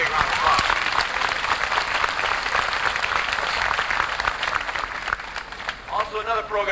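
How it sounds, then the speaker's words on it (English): Audience applause at a 1987 junior high school graduation ceremony, a loud, steady wash of many hands clapping that carries on throughout before thinning near the end as a voice begins to speak. "Let's give those two a great big round of applause."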